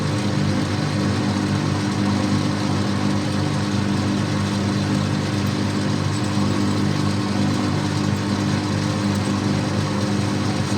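Lathe machining a bronze bush for a motorcycle trailer hitch, a steady droning motor hum with constant broadband whir, close and unchanging, no talking.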